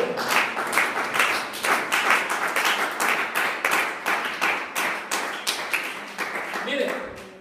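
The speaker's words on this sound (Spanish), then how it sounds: "¿Por qué no le damos un aplauso a este Dios tan bueno?" A church congregation claps in broken, uneven bursts that run steadily through the whole stretch, fairly close and moderately loud, with no voice over it.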